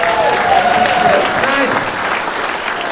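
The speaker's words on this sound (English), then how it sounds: "Give her a round of applause, everybody." Loud crowd applause at a stand-up comedy club, dense clapping from a packed audience with some cheering, lasting a few seconds and tapering slightly toward the end.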